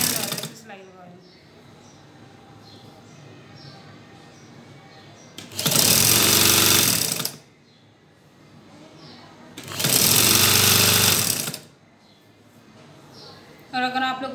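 A sewing machine stitching a churidar pajama runs in two loud bursts of roughly two seconds each, with a third starting at the end, and quieter room sound between them.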